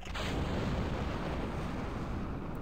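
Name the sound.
rocket engine firing in a spaceflight video game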